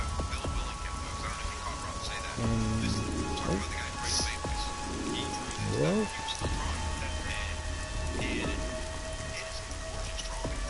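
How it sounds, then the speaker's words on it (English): Rain falls steadily in the DC Universe Online video game, a continuous hiss under someone talking, with a few brief game effects mixed in. "it rains too damn much around here"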